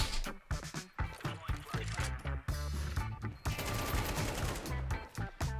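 Submachine guns fire in rapid bursts during a Counter-Strike 2 match, dense sharp repeated shots layered with game sounds and loud throughout.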